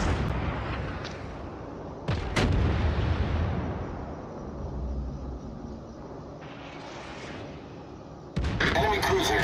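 Naval guns firing from warships in the World of Warships video game, heavy booming blasts with a long rumbling roar between them, loud and dense and close.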